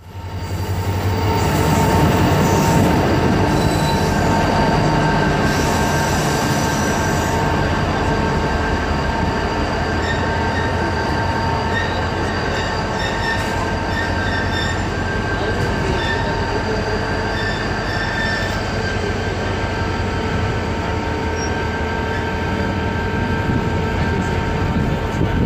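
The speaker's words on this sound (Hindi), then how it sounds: "हम जुम्माकोट रेलवे स्टेशन पर पहुंच रहे हैं और यहां पर भी हमारी ट्रेन को लूप लाइन पर नहीं लिया गया" A Karachi Circular Railway train arrives at Jummah Goth station on the main line, with a loud steady rumble of wheels and carriages, squealing metal tones and a long, continuous rolling roar heard from on board.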